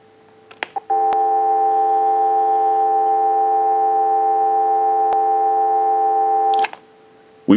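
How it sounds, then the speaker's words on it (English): A click, then a steady, loud telephone dial tone from a novelty duck telephone under repair hums unbroken for about six seconds before another click cuts it off. "I'll let it go one more time and we'll give you some dial tone."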